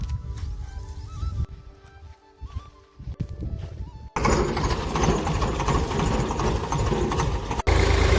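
A thresher runs in a field extracting ajwain (carom seeds), its engine chugging steadily before a louder burst of dense, rattling machine noise takes over for the rest.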